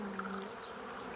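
Bees buzz in a steady, fairly loud drone in a Family Guy cartoon scene, a short continuous swarm hum without speech.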